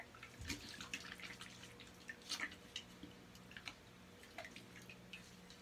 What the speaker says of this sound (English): So much water in this lather that it's just dripping off the brush